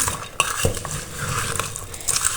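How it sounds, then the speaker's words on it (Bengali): Wooden spatula stirring mixed vegetables in a pot, with quick scraping and clinking taps against the pan in an uneven rhythm, close and fairly loud. "আমি একটু ভালো করে এরকম মেখে দিব"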